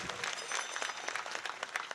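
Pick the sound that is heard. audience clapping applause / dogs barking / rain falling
audience clapping applause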